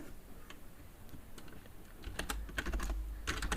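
Typing on a computer keyboard while renaming a layout in AutoCAD, a run of quiet, close key clicks that grows busier and slightly louder toward the end, with no voice over it.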